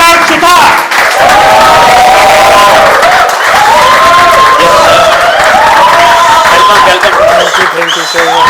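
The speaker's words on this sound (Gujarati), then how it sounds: "એક વખત જોરદાર તાળી સાથે સ્વાગત કરીએ કૃણાલ સુથાર" A talk-show studio audience claps and cheers to welcome the guest, Krunal Suthar. The loud, dense applause runs throughout, with voices rising over it.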